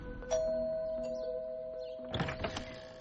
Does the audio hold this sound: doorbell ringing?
yes